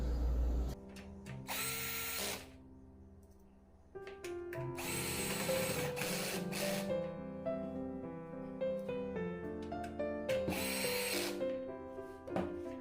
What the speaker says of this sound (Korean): 파워 서플라이는 볼트 4개가 들어갑니다.